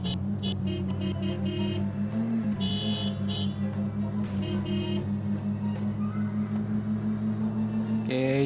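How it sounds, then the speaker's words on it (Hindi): Oncoming traffic in Indian Car Simulator 3D sounds several horn honks in short bursts over a steady droning engine tone, with game music and background noise throughout. "सामने से भी गाड़ियाँ हॉर्न मारती हैं।"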